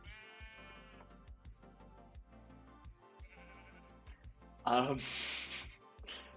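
Soft Minecraft sheep bleats repeat under a rhythmic thumping beat, followed by a brief burst of louder noise near the end; quiet overall.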